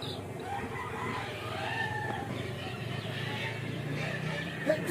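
Aunt Mercy's backyard chickens cluck steadily close by, with a rooster crowing among them in a busy farmyard, and faint talk underneath.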